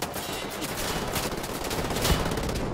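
Rapid, loud bursts of an enemy turret machine gun firing in the video game Wolfenstein The New Order, a dense continuous clatter of shots close by with no pauses.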